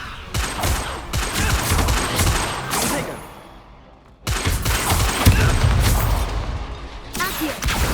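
Spell-casting duel effects in Hogwarts Legacy, loud dense bursts of crackling blasts and whooshes in two long flurries with a brief lull between, plus a short sweeping sound at the end.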